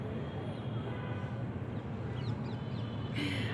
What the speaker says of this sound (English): I just love when eagle comes in my,